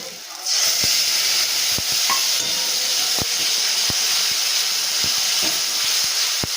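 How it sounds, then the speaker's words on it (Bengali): Steady sizzling hiss of a ground spice paste frying in hot oil in a kadai, with occasional sharp clicks of a spoon against the pan, close and continuous. "এবার আমি বেটে রাখা মশলাটা এর মধ্যে ঢেলে দেবো"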